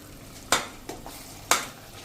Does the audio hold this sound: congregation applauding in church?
no